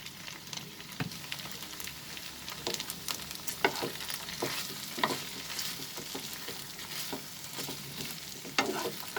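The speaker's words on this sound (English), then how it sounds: "Now we are going to add the French beans. and the sweet corn." Chicken stir-fries with French beans and sweet corn in a hot pan, giving a continuous sizzle broken by repeated scraping and clattering stirs, with no voices.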